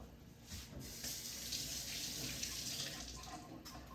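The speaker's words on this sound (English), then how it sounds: "I'm going to rinse my fingers." A water tap runs steadily for several seconds as fingers are rinsed under it while painting rocks, a close and continuous gushing hiss with no voices.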